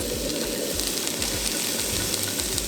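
Onion and shallot fry in oil in a pan over medium-high heat, giving a steady, close hiss and crackle with faint clicks of the pan underneath and no voices.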